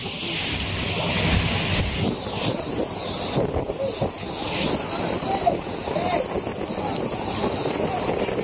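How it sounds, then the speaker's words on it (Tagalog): Strong gusting wind from Typhoon Kabayan buffets the microphone on a rocky shore, a loud, roaring rush with surf churning beneath and boats nearby. "Lakas. Lakas ng hangin."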